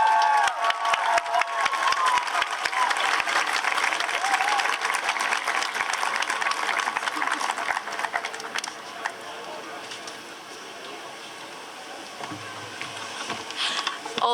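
A Pride crowd applauds and cheers after a speech at an outdoor Queer Pride event, steady dense clapping with scattered whoops that slowly thins toward the end.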